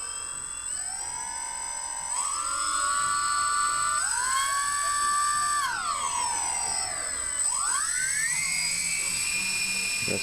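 An RC 3D helicopter's rotor and motor spin up from rest after a repair, a loud rising whine that climbs in steps, dips briefly, then settles to a steady high pitch at flight speed, close by with no talk.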